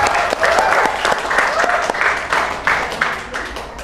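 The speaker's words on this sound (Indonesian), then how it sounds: "Aplaus dulu dong." An audience at a book launch claps together in a dense, even burst of applause lasting several seconds, close and fairly loud.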